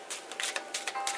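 Tarot cards being shuffled, a quick run of crisp, papery riffles and flutters in close succession, fairly close and soft, with no talking.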